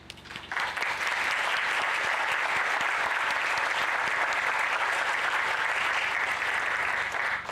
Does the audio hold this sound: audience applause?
yes